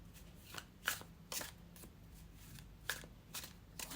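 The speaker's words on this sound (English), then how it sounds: "Again, shuffle with intention." Tarot cards are shuffled close up in soft, riffling bursts with brief pauses, a quiet papery flutter repeating about every half second with no talking.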